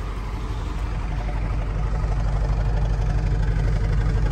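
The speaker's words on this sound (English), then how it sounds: "but it's factory exhaust for the 428 Cobra Jet" The 428 Cobra Jet V8 of a 1968 Shelby GT500KR convertible idles nearby with a deep, steady rumble and a lopey pulse, through a fairly quiet factory exhaust, with no voices.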